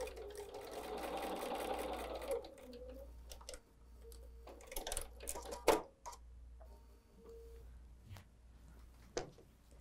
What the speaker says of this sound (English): let's sew with a very accurate quarter inch seam